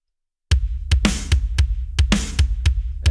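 Dry acoustic drum kit mix with no added samples or ambience, a steady pattern of punchy kick and snare hits with two brighter crashing cymbal hits, close and loud, with no voices.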